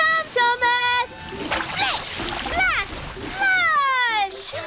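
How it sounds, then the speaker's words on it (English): Cartoon splashing as a small steam engine drives through muddy puddles on the railway, with sploshing bursts under music and a voice running through the scene. "Muddy water splattered everywhere."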